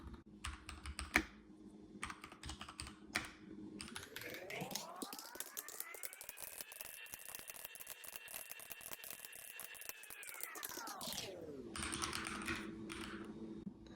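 Typing test on a Keychron K10 mechanical keyboard: rapid, close clicking keystrokes at the start and end, with a loud tonal hum rising and falling in the middle section.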